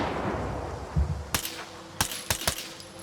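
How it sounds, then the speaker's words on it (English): Grenade explosions in the video game Stalker 2: a low thump, then several sharp, punchy blasts in quick, uneven succession, fairly close and moderately loud against a quiet background. "I'm using a grenade on them. Watch this. 2 grenades."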